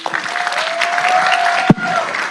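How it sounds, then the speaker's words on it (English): Applause fills a city council meeting chamber as the audience honours a Citizen of the Month, a steady patter of many hands with a brief knock near the end. "If we can please give him another round of applause."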